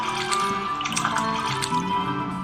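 Water drawn into a rusty tin bucket in the homesteading video game Veil of Dust, a steady close splashing and dripping pour under soft background music, with no talking.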